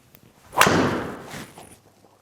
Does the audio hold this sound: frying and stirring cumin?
no